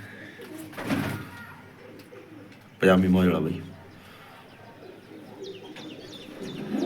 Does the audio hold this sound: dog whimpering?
no